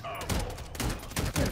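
Rapid bursts of gunfire in Call of Duty MW3, shooting out a vehicle tire near gas pumps; loud, close shots fired in quick succession across a short stretch.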